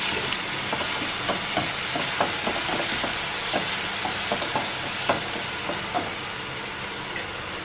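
Chilli potatoes stirred in a frying pan with dark soya sauce, a continuous sizzle with repeated light scraping clicks from the spatula at an irregular, steady pace.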